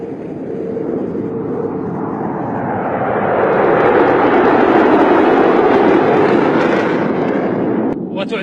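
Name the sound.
Boeing F-15SA fighter jet flying at air show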